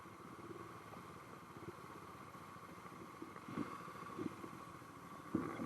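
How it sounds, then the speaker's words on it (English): A motorcycle engine idles and runs with a low steady rumble during a UK motorcycle riding test in Warwick, fairly faint and constant, with a few louder bumps toward the end. "There you could see the examiner's bike right next to me."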